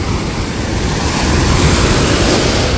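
Sea waves breaking on a Turkish beach, a loud, close, continuous wash of surf with wind buffeting the microphone, steady throughout and with no talk.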